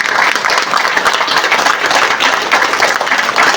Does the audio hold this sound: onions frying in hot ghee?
no